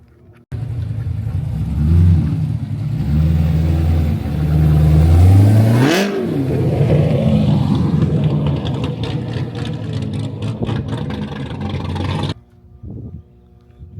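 A tuned car, probably a modified performance build from Vengeance Racing, rolls in with a deep idle that swells into a sharp rev and rumbles on loudly nearby before the engine cuts off abruptly, leaving faint clicks.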